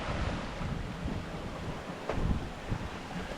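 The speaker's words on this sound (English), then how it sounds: "The wind filled in about 11 o'clock this morning" Wind at sea aboard a sailboat on an ocean passage from Florida toward Bermuda, a continuous broadband rush with gusting swells and faint wave wash, no voices.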